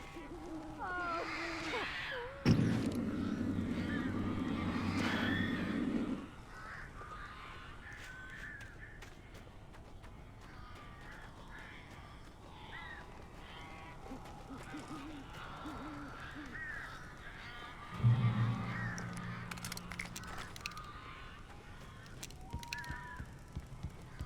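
Crows caw in the video game Alan Wake, harsh repeated calls in two loud bursts of several seconds each, separated by quieter stretches of faint ambience.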